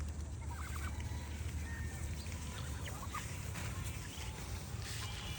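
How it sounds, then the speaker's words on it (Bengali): Muscovy ducks feeding in a field of kalojira rice paddy, with soft scattered quacks and bird calls over a steady outdoor background of wind and rustle; no speech. "আমার মাসকবি ডাক মানে চীনা হাঁসগুলো আমাদের এই কালোজিরা ধান খেয়ে শেষ করে ফেলছে"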